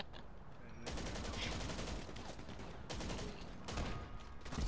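Rapid video game gunfire from sniping in a match rattles in dense, continuous bursts with brief pauses, loud and close, with faint voices underneath.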